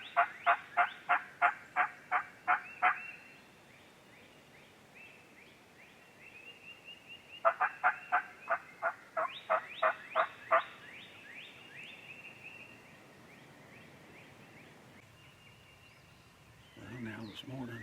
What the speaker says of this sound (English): this morning they're all gobbling on the north end of the place